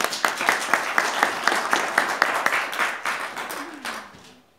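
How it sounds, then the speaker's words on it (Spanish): An audience claps for Cholita climber Flora Chura at a gathering, with rhythmic, fairly loud applause that fades out toward the end. "Vamos a darle un aplauso, por favor."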